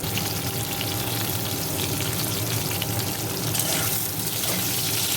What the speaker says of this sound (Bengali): ছেড়ে দিচ্ছি আলুগুলো হালকা একটু নেড়ে নেব